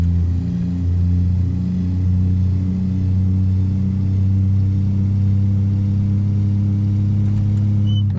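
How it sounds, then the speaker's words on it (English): Steady, loud low drone of a Kenworth truck engine heard from inside the cab in American Truck Simulator with the Zmod interior sound mod, holding an even rumble with a faint whir, no talking. "All those sounds that you hear on the inside are also courtesy of the Kenworth Interior and Effects from Zmod"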